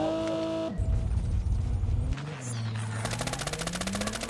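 An M13 gun firing in a shooter video game, a brief loud rapid burst followed later by a fast steady string of shots, over game music and engine-like hum.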